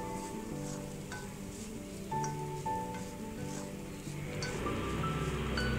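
Grated coconut fries in ghee in a pan and is stirred until it turns brown, as filling for kozhukattai. A soft, continuous sizzle with light stirring scrapes sits under a faint tonal hum.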